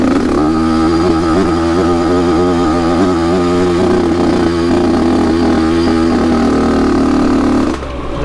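A Yamaha YZ85 dirt bike engine runs loud and close on a trail by Kinabuan Falls, a buzzing, steady drone with slight rhythmic wavering before cutting off abruptly at the very end.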